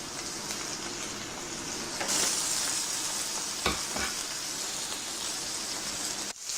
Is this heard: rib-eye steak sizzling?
yes